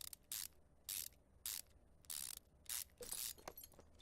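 A ratchet wrench bolts a thermostat back onto a W12 engine in Car Mechanic Simulator, giving six or so quick bursts of clicking in an uneven rhythm, fairly close and moderately loud.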